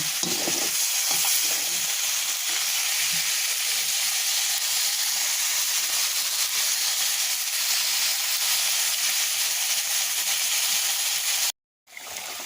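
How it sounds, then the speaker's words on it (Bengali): Steady broadband hiss and bubbling from vegetables (gourd, pointed gourd, potato) simmering in added water in a pan, continuous and fairly loud with no talk, cutting out briefly near the end. "কষানো হয়ে গেলে আমি একটু পানি দেবো সিদ্ধ করার জন্য"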